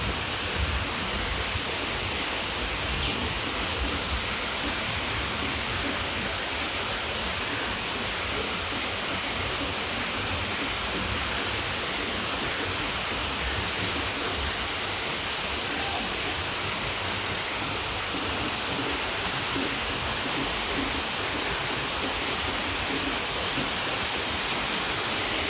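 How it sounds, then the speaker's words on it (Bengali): Heavy rain pours steadily during a Baishakhi storm on a farm, a dense, unbroken hiss of downpour filling the whole stretch, loud and close with no voices. "এখনো বৃষ্টি পড়তেছে।"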